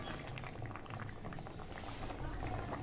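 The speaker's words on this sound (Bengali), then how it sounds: "এঁচোড়টা আর একটু সেদ্ধ হবে" Green jackfruit pieces boil in a pot of water for a jackfruit-and-prawn curry, giving a steady, close, continuous bubbling and churning that runs unbroken throughout.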